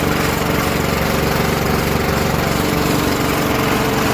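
A transfer pump moves liquid nitrogen fertilizer out of a farm tank, giving a loud, steady engine-driven drone with no change in pitch or rhythm throughout.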